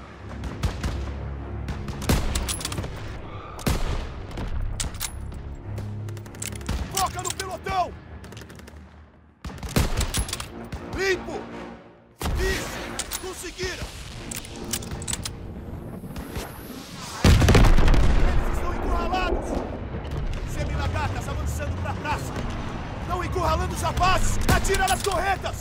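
Rapid bursts of Call of Duty WW2 gunfire rattle in uneven volleys with a few short pauses and a louder blast, while voices call out over the shooting.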